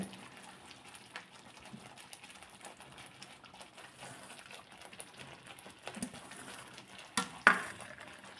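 Aalu pithle, a thick gram-flour dish, cooking quietly in a pan with a faint soft simmer and occasional scraping stirs, a few louder clinks near the end.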